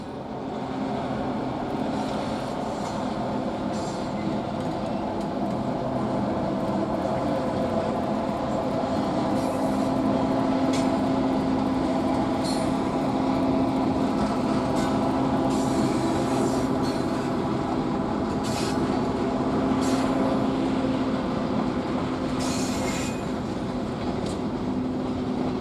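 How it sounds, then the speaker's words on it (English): A freight train hauled by MK50-3 locomotives rolls past steadily and loudly for the whole stretch, with rumbling wheels and occasional metallic squeals and clicks. "The train soon approaches the town of Stratton."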